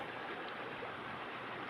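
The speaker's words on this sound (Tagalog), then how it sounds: "Ito napakalakas ng agos dito sa gilid ng tubig" Strong water current rushing at the water's edge beside a dark hole, a steady broadband wash of flowing water heard up close and continuous, with no voices.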